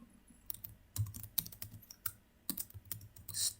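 Irregular bursts of keystrokes on a computer keyboard while code is being written, close and fairly quiet, uneven clusters of clicks with short pauses, no talking.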